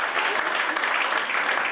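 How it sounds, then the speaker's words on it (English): Audience applause at an evening creativity event: dense, steady clapping from a crowd, fairly loud and even across the whole stretch, with no break or voice rising above it. "Give her a round of applause"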